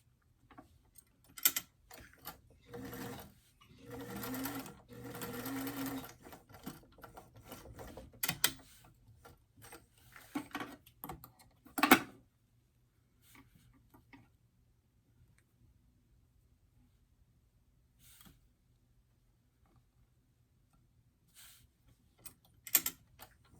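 A sewing machine stitches two darts on the front of a doll's top, giving several short bursts of fast rhythmic needle clatter with pauses, then a few faint isolated ticks near the end.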